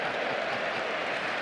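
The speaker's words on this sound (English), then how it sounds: "You heard the great cheer." Football stadium crowd at an FA Cup match between West Ham and Leeds, a broad roaring cheer mixed with clapping that fills the short stretch at a constant loud level, with faint talk underneath.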